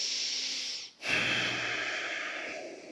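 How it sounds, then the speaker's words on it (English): Slow, deep breathing during a yoga class: a steady airy inhale, a brief pause, then a long audible exhale close to the microphone, with no talking. "Take a deep breath in and out."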